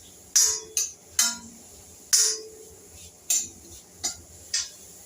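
Grated coconut being stirred and sautéed in a kadhai for modak filling, with a series of about eight sharp metallic spatula clinks and scrapes spaced irregularly over a quiet background.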